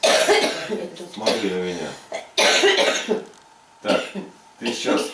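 A woman coughs in short, harsh bursts during a faith-healing session aimed at asthma and bronchitis, with someone talking loudly over and between the coughs.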